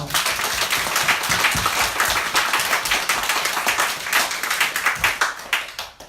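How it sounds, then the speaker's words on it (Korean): A church congregation at a Sunday service applauds together, a steady, dense wash of many hands clapping close by for about six seconds, with no talking over it. "이렇게 해주는 하나님께 영광의 박수 한번 드립시다."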